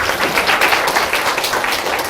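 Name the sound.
applause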